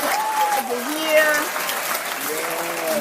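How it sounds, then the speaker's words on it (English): A small group claps continuously during a live talk show, with whooping and cheering voices over the applause. "Let's give some claps up for her."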